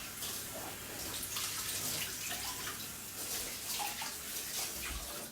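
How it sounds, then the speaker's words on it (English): Tap water runs steadily while a chopping board is rinsed in a kitchen sink: a continuous close hiss and splash that holds at an even level throughout, with no talking. "Just wash the chopping board quickly."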